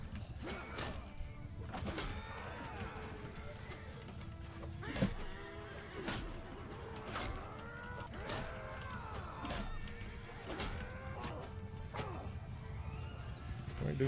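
Horses in the Mount & Blade II: Bannerlord video game, rhythmic hoof clip-clops with occasional whinnies and sharp battle clashes, under intermittent talk.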